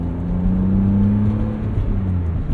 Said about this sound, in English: now we'll be able to hear the beautiful Dynon exhaust just that much better with the roof up